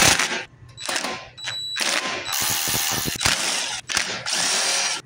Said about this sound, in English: We're gonna take all these bolts off and we'll go to the next step.